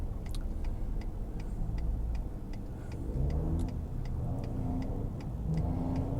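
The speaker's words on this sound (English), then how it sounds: "Here goes another dump truck." A dump truck goes by outside. A steady engine rumble and road noise fill the scene, swelling somewhat as it passes, while a rapid clicking ticks along evenly throughout. No one speaks.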